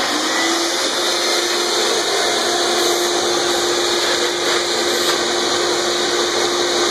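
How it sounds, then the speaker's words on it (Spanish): A vacuum cleaner sucks up bugs, making a steady, loud whine with a constant hum and no pause, close by, with no speech. "los vamos a aspirar con la aspiradora"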